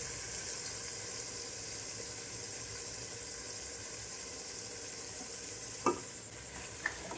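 Yogurt is stirred into rice pilaf frying in a pot, a steady sizzle with soft scraping of the spoon and a couple of sharper knocks near the end.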